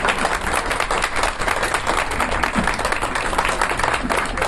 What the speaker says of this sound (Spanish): para quienes pedimos fuertes los aplausos